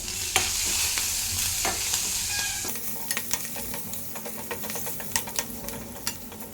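Green chillies, turmeric, mustard seeds and cumin fried in oil in a pan, a strong sizzle at first, then quieter crackling with repeated close spoon stirs and scrapes.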